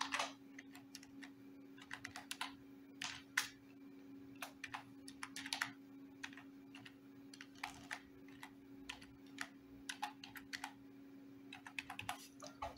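Someone types a password on a computer keyboard during a WordPress admin setup, producing quick, irregular clusters of crisp key taps over a faint steady hum.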